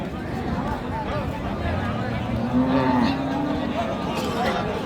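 A beef cow of about three maunds at Raniganj cattle market in Dinajpur lows low and steadily amid a constant crowd murmur, with the call swelling midway through.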